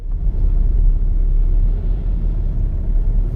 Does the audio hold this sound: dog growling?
no